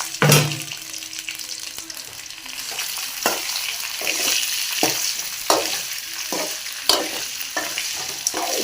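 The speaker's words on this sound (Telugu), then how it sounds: "ఇప్పుడు ఉడకబెట్టిన మునక్కాయ వేసుకుందాం." Boiled drumstick pieces fry and get stirred into browned onions in a pan, a steady sizzle with repeated scraping stir strokes throughout, close and fairly loud, no voices.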